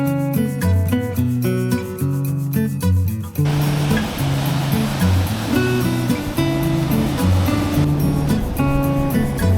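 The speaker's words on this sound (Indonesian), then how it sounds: "debur ombak yang lebih jelas terdengar" Ocean waves wash and break in a steady rushing roar, with background music playing throughout.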